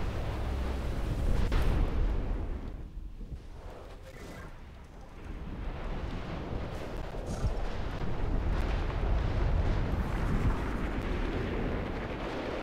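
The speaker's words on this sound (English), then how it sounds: "Also, here comes the explosion again!" Rumbling lava eruption explosions in the video game From Dust, a series of deep booms and crackling bursts rolling over several seconds, loud and without speech.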